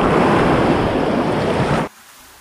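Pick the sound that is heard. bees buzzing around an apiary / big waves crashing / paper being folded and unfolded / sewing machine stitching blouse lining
big waves crashing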